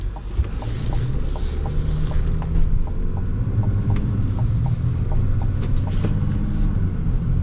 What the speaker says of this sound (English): Oh, this diesel's so smooth.